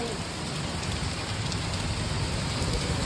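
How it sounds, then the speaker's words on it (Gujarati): Rain falls steadily and evenly in a constant, moderately loud broadband patter with no pauses, and no voices are heard. "વરસાદ જો પડે આમ જો"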